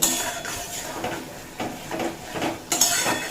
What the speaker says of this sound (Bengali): সর্ষে পোস্ত বাটা দিয়ে অল্প কষিয়ে নিয়েছি